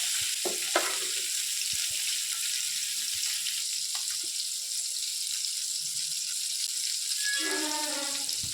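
Fish frying in hot oil at a street-stall style cooking setup, a steady loud sizzle running throughout with occasional clinks and stirring, no talking.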